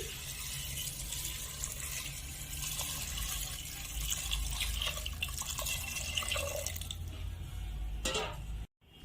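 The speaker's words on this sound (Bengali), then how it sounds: "এখন আমি জল দিয়ে দিচ্ছি" Water pours and trickles into a pressure cooker pot holding peas and chopped potatoes, a steady wet splashing that runs for several seconds before briefly cutting out near the end.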